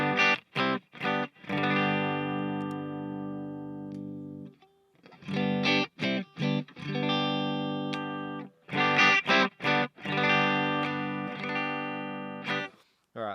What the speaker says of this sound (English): here's the sound of the amp and cab when you first bring it up